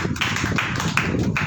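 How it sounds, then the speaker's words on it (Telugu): Hand clapping in a Telugu Bible reading class, a run of sharp, evenly spaced claps about every third of a second over a steady noisy background, fairly close and loud. "నేను పట్టమనగానే చప్పట్లు కొట్టాను"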